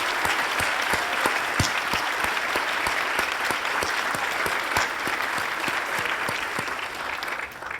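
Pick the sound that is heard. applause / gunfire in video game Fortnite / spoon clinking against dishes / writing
applause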